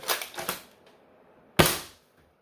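A Dart Zone Max Stryker blaster firing Nitro Shot foam darts: a pair of quick mechanical clacks, a short pause, then one sharp, loud, close snap of a shot with no talking.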